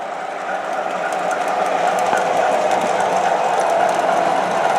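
Two MTH Proto 3 O gauge model diesel trains circle a small loop, giving a continuous whirring motor hum with light metallic rail clicks, steady and close throughout.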